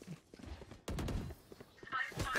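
Gunfire in the tactical shooter Valorant during a ranked match, heard as loud broadband bursts of shots, with a dense volley at the midpoint and more shots near the end, mixed with game effects.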